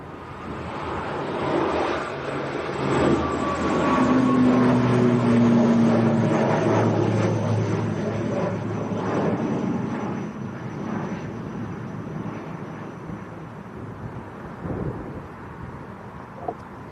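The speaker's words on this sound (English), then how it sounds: "Here we go, Aer Lingus to Belfast." Aer Lingus airliner departing Leeds Bradford Airport for Belfast on a windy, overcast day, a loud roaring jet rumble with a rising whine that builds, peaks and slowly fades into the distance.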